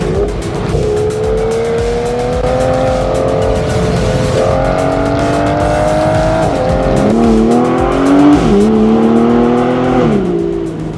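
An Aston Martin Vanquish S Ultimate's V12 revs and accelerates hard, the engine note climbing through gears with rising pitch, sharp shifts and a loud, continuous snarl heard up close.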